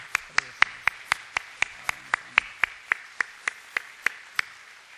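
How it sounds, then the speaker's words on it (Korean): Sharp, evenly spaced claps of a single steady rhythm, about twenty distinct hand claps, welcoming a newcomer standing up during a Korean church service, loud and close with no talk over them. "우리 박수로 환영합시다"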